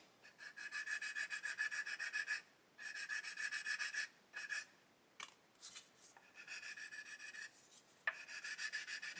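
Short rasping strokes of sandpaper on the plastic wing of an Airfix 1/72 Lancaster B.III model, close and fairly quiet, coming in uneven bursts separated by brief pauses, with no voices.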